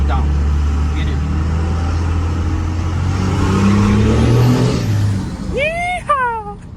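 A diesel truck sold with a tractor tuner revs its engine hard, a loud low rumble swelling up close before easing off, with a voice whooping over the end.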